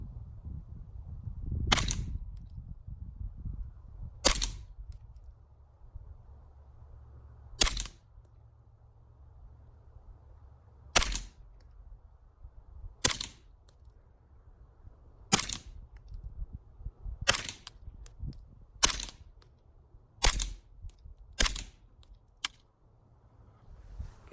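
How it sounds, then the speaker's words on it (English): A Ruger Charger rifle built like a 10/22 fires slowly into a shooting tube, about a dozen quiet, sharp cracks spaced several seconds apart over a faint low background hum. "I'm just going to kind of go slow fire just to get it sighted in"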